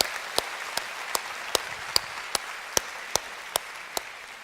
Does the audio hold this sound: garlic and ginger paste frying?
no